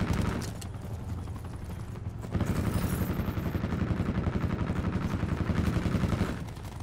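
A turret firing in Call of Duty Black Ops 2, a steady rapid stream of mechanical automatic shots that grows louder partway through and continues for several seconds, with no talking over it.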